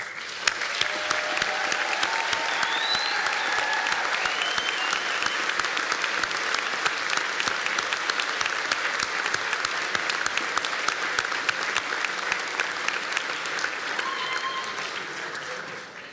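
A graduation ceremony audience at the University of South Wales applauds in a long sustained round of many hands clapping, steady and somewhat distant in a large hall, with faint voices and whoops scattered through it.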